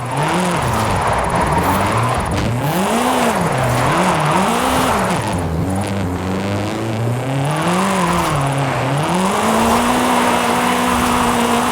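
A car drifts in the video game Forza Horizon 5, warming its tyres. A loud, close engine note continuously rises and falls as the revs swing, with tyre noise underneath.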